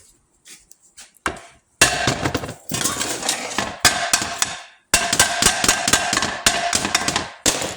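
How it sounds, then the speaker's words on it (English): Sharp metallic hammer blows drive a pin on the shaft of an IH 1066 tractor, struck in a few quick bursts of close, loud, rapid strikes separated by short pauses. "I'll grab a hammer here."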